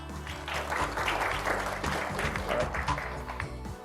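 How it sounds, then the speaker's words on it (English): Scattered applause from a medical talk audience greets a doctor, with uneven claps and murmuring voices over a low hum, moderately loud in a hall. "So let's give him a round of applause"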